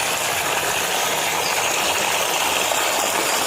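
Freshly picked home-grown curry leaves are rinsed under water, with a steady, loud gush of running water close by and no pause.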